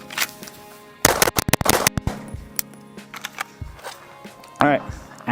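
A 2011 pistol fired in a rapid string of sharp, loud, close shots, followed by a few scattered clicks and handling noises, with a person speaking briefly around them.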